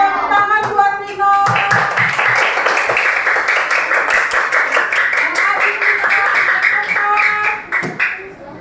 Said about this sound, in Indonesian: tepuk tangan buat Nino